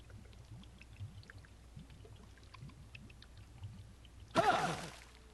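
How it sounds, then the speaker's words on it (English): Water bubbling up in a brief burst in the video game Deadly Premonition 2, rising suddenly near the end after quieter ambient game noise. "bubbly water's never a good thing"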